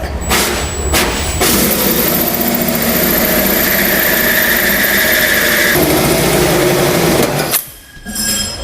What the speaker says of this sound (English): now we'll place our hole saw into the pilot hole and we'll make our cut